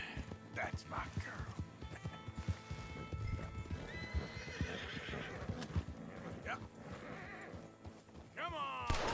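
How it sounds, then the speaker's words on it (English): Horses in Red Dead Redemption II neigh and whinny while hooves clop steadily, with a sharp whinny near the end, all under intermittent talk. "Come on, horses."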